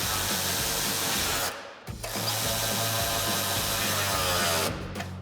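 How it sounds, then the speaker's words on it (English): Cordless impact wrench with a 13mm socket driving a Jeep Wrangler JL rocker step's main mounting bolt, a steady loud whirring burst that pauses briefly midway and resumes, with no talk. "we're going to start with our 13mm socket on our impact to tighten up our main mounting bolt"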